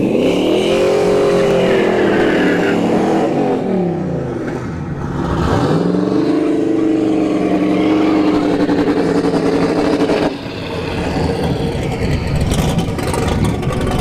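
A turbocharged Chevrolet Malibu drag car makes a run at a dragstrip during test-and-tune, its engine loud and close, rising through revs with pitch sweeps and dropping briefly before climbing again.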